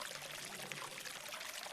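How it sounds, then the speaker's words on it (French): Water pours steadily into a bottle, a continuous close, bright splashing stream lasting under two seconds with no voices. "remplit sa gourde d'eau"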